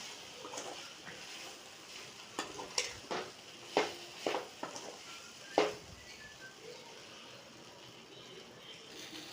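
Okra being turned over in a pan on low heat, a faint background sizzle with a handful of distinct scraping and tapping stirs of a utensil against the pan, quiet and close, no speech.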